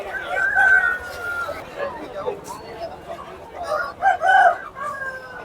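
Several chickens cluck and a rooster crows amid a busy crowd, with people chattering throughout in a lively outdoor setting at Gokavaram weekly market, India.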